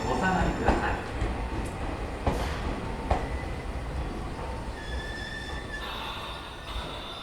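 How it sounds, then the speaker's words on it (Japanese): A Tobu 30000 series train rolls into a station platform with a broad steady rumble, a few sharp clanks early on and thin high wheel squeals toward the end as it slows. "2番線東駅止まりの電車が参ります。"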